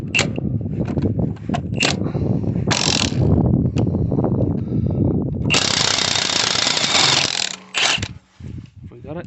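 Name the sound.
impact nut gun removing a locking wheel nut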